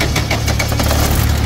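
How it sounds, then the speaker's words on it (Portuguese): A used car's 1.8 engine runs steadily at idle, a close, dense mechanical rumble with a fast knocking pulse and no pauses. "Vamos observar como ela se comporta e escutar aqui o ruído desse motor."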